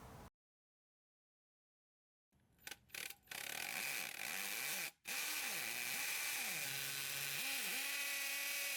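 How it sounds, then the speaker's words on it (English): After a silent pause, a power drill drilling an anchor hole starts with a few short bursts, then runs continuously, its whining pitch rising and dipping as it bores in. "Now you've got the right depth for your anchor hole and you're ready to drill."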